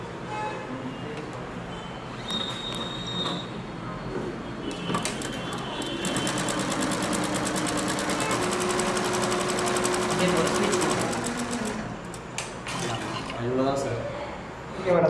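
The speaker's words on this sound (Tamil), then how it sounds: "ஜஸ்ட்டு நான் மிஷின் ஆன் பண்ணிவிட்டா" An embroidery and Aari work sewing machine runs in a fast, steady mechanical clatter of rapid stitching for several seconds, with stops and restarts, while people talk over it.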